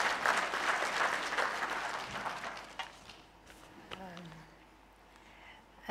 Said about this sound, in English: I think the CEO will deserve a better clap.